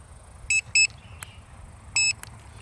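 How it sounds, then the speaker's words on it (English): Three short electronic low-battery beeps from a Hubsan drone controller, two close together and then one more after a pause, over faint background noise. "you do want a beep when it's getting low on battery for the controller"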